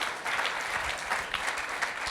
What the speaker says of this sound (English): So give Justin a round of applause.